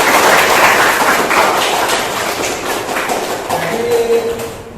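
Classroom applause during a school guidance counselling lesson, a dense patter of many hands clapping steadily throughout, fairly close and loud, with a short tonal voice or sound near the end.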